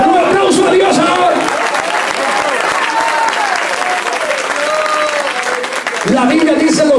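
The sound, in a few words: congregation applause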